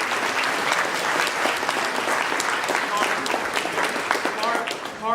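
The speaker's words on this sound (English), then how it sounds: "let's give them a round of applause" An audience claps in sustained, even applause, a dense patter of many hands that stays strong throughout and tapers slightly at the very end.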